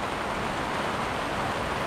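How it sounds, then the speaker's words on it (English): Steady rain falling outdoors, a dense, even hiss with no breaks and no voices, moderately loud throughout. "It's raining. It is raining."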